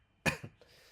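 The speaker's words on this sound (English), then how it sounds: "dealing with this cough for like a week or so now" A single harsh cough bursts out close to the mic, followed by a smaller second cough, then quiet room tone.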